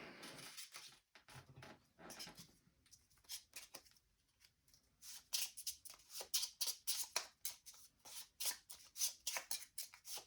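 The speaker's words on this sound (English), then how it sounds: "So shuffle the Ebonite Doorway special encounter into the deck" Playing cards riffled and shuffled by hand for the board game Too Many Bones, quiet close bursts of papery flicks that become rapid rhythmic snaps, with no talking.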